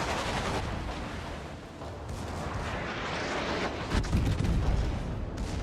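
Secondary guns of the French battleship Alsace firing in World of Warships, a loud continuous barrage of booming shots with a heavier burst near the end, no talk.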